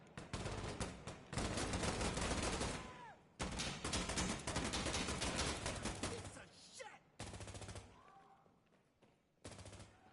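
Bursts of AK rifle fire in the tactical shooter Insurgency, loud and close, with long sustained automatic strings broken by short pauses and a final short burst.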